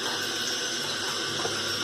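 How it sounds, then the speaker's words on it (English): Tap water running steadily into a sink, a loud, constant hiss and splash that stays even throughout with no voices over it. "Hope you can hear me over all that water noise."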